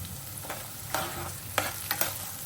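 Green chillies fry in a pan of oil while being stirred, giving a faint background sizzle broken by a few soft scraping strokes of the spoon, close and without talk.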